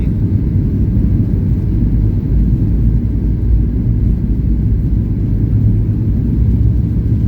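A Flair Airlines airplane taking off from Vancouver, heard as a loud, continuous low engine roar and rumble that holds steady throughout, with no talk over it.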